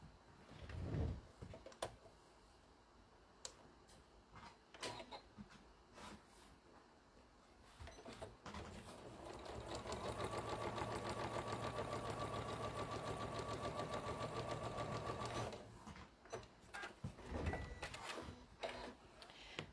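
A sewing machine stitches straight across a Yazzii bag in one steady run of several seconds, flanked by shorter bursts of stitching and handling clicks from fabric and machine parts.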